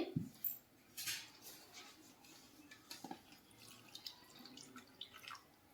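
Onion, coconut, tomato and coriander for fish curry are rinsed in water, giving soft, faint drips and small splashes at an uneven pace, close by and with no talking.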